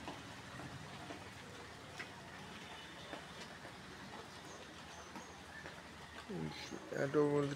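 Rain falls on a garden in a steady, close patter of drops, with a voice rising toward the end.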